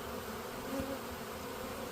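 Honey bees hum around a hive left open after a removal, a faint, even buzz that carries through the short stretch with no voices.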